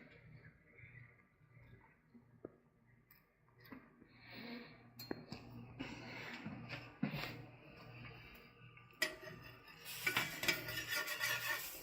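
Food slides and is stirred around inside a Copper Chef pan, giving soft scraping and clinking utensil sounds. A few sharp taps stand out, and the activity builds to a brighter, busier scrape near the end.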